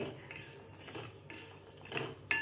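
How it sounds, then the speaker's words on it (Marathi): A utensil scrapes and clinks against a hot wok as sesame seeds and coconut are stirred after the gas is turned off, quiet and close, with no talking. "त्या गरम कढईमध्येच आपल्याला हे व्यवस्थित हलवून घ्यायचं आहे"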